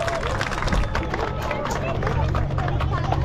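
A crowd claps and cheers at a rally awards ceremony, a dense wash of applause mixed with murmuring voices and a loudspeaker-like hum underneath.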